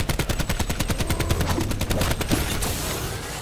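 Rapid bursts of ICR assault rifle fire in the Call of Duty Black Ops 4 zombies map IX, sharp repeated shots in a steady rhythm lasting about two and a half seconds, loud and close, followed by a fading game ambience.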